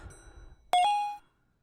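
A bell in a Roblox animal hospital game gives two quick bright dings close together, ringing out clearly over a quiet background before fading within half a second.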